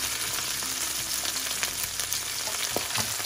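Lobster meat sizzles and crackles as it fries in a pan, a steady, dense hiss with scattered pops and occasional stirring clinks, close and fairly loud, with no talking.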